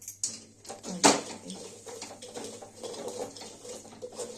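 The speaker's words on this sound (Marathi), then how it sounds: "आणि ह्या तव्यातच असं चिंबरून घ्यायचा ग्लासानं" Roasted food is crushed with a glass on a hot iron tawa, making scattered scrapes and light knocks with one sharper clunk early on.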